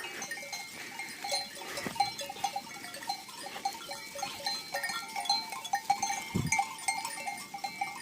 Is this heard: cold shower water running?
no